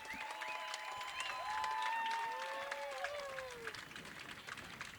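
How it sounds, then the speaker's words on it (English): Cotuit baseball fans rise to their feet and applaud during a tense at-bat, a distant, rising roar of crowd noise mixed with whistles and cheers. "Applause starting to roar here in Cotuit"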